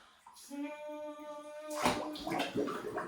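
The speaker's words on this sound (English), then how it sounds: "It made bubbles." A child blows bubbles into warm bath water during a baby swim lesson, a bubbling gurgle with a hummed tone at the start, then splashing and an adult voice close by.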